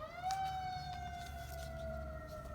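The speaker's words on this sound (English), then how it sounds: "I'm sorry for the sirens in the background." An emergency vehicle siren wails steadily in the background, a sustained tone with gently falling pitch, moderately distant and alone without talk.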